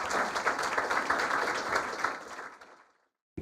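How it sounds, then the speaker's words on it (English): Audience applause for a group of boys at a finance event for the Antipodes Global Fund, a full burst of clapping from the room that thins out and dies away after about three seconds, followed by a short clatter. "if we're going to put our hands together and applaud the boys"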